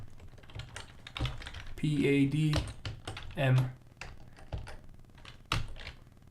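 Typing on a computer keyboard while coding a top-down action adventure game: irregular clusters of close key clacks and taps, under and between a person's speech.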